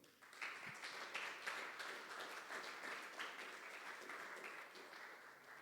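A church congregation claps in a steady, faint, continuous round of applause during a Spanish-language sermon, with no talking over it.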